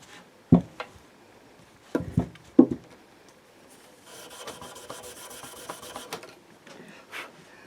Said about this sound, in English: now we're just going to rub down the frets with some steel wool to take all the grime off the top of those